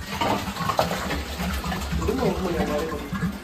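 Tap water runs into a vessel at home, a close, continuous splashing gush with small clinks and bubbly filling noise throughout, moderately loud and steady.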